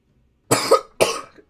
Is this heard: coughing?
yes